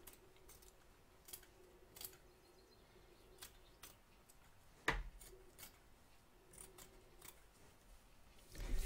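Scissors snip through fabric around the edge of an embroidery hoop, a series of quiet scattered cuts with one sharper louder snip midway, near and faint against a hushed room.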